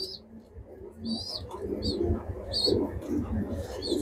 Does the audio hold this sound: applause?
no